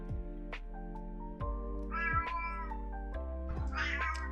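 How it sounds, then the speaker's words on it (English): A pet cat meows several times in a row, close and clear, with drawn-out cries that rise and fall like caterwauling, and no talking over it. "Can you hear my cat?"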